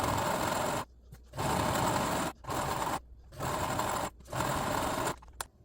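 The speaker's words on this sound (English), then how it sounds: "we need to sew both ends of the curtains together, the back and front" A sewing machine joins the ends of lace curtains in repeated runs of about a second each, separated by short pauses. It sounds close and steady, with no talk.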